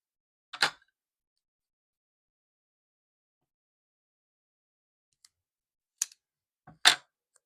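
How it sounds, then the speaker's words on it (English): A few sharp snips of scissors cutting tape, one at the start and a couple more near the end, separated by long silence. "Sorry about the noise of the scissors."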